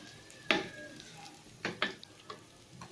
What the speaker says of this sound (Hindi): अब इसमें मैं कड़ी पत्ता डाल देती हूँ, चंद पत्ते, और साथ ही मैं डाल देती हूँ ये ज़ीरा